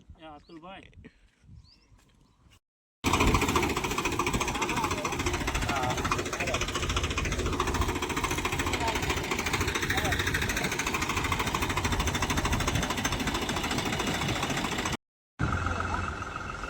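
A loud, rough engine chugs steadily for most of the clip, close and continuous, after a brief stretch of talking at the start.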